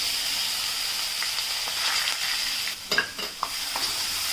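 Ginger, garlic and green chili paste sizzles and fries in hot oil with a steady hiss, broken by a few stirring scrapes near the end.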